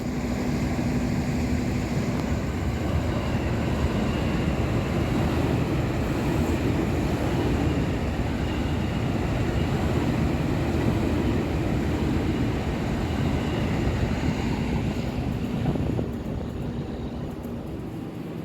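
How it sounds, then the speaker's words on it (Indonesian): Continuous loud rumble and rattle of an electric commuter train (KRL) rolling past close by near Semarang Poncol depot, steady for most of the time before easing slightly at the end. "Segera melintas langsung KRL"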